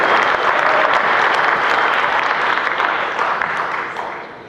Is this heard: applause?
yes